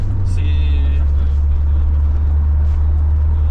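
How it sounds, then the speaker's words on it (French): A Corvette C4 in an old-school American sports car, its engine giving a loud, steady low rumble throughout under gentle throttle, with a brief faint chime near the start and a voice heard over the drone. "je vais accélérer un petit peu parce que je ne vais pas bloquer tout le monde"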